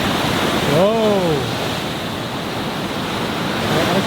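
Pacific surf at Usal Beach rushes steadily against large rocks below an overlook, a loud continuous roar with wind buffeting, and a brief rising-falling whistle or bird call near the start.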